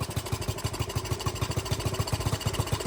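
A dirt bike engine idles after its air/fuel screw has been adjusted, with the screw closed. It makes a steady, rapid thumping putter that is close and even, with no voices over it.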